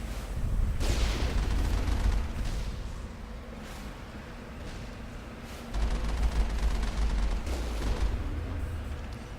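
Alliance heavy turrets fire in the Mass Effect video game as sustained bursts of booming gunfire, loud and dense, easing mid-clip before a heavier barrage returns.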